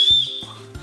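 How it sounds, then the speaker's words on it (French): A candy lipstick whistle is blown in a short shrill tone that fades out, followed by a few soft low bursts and thumps from close by, with no talk. "Alors voilà le rouge à lèvres sifflet"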